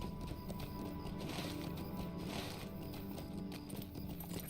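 A horse in a video game clip-clops along in a steady trotting rhythm at moderate distance, the hoofbeats clear over a soft ambient bed with no talk.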